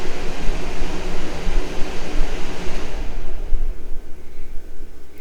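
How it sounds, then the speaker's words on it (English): Steady air conditioner hum running alone in an indoor room, a broad even whoosh that fades somewhat toward the end, with no talking over it. "I apologize if you hear the air conditioner or the heater in the background."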